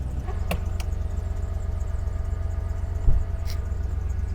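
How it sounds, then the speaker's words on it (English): A 1995 Cadillac Fleetwood trunk soft-close suck-down motor runs with a steady low electric whir and hum close up, broken by a few faint clicks and one brief thump, with no talking. "Oh my god, it worked. The suck down motor worked."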